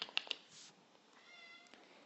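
A house cat meows softly a couple of times at close range, brief quiet calls in an otherwise hushed room.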